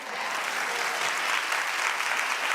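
Studio audience applause at a daytime talk show, a dense, even wash of clapping that holds steady and fairly loud for a few seconds with no one speaking over it.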